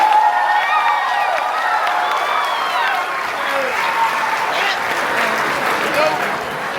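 Dense applause and cheering from a large crowd at a senior convocation, with whoops and shouts over steady clapping that holds loud throughout.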